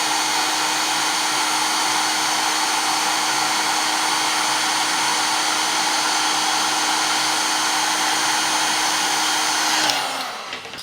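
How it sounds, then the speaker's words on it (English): A heat gun blows hot air onto a solder connector, a loud, steady, close whooshing hum held for about ten seconds before it cuts off and winds down. "Let's try it with a heat gun."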